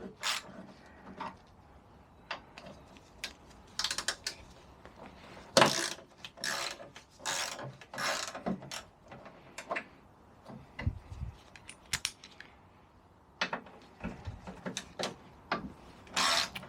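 Ratchet clicks and metallic taps as bolts are loosened on the rear panel of a Peugeot Django 125 cc scooter, in irregular close bursts with quiet pauses between.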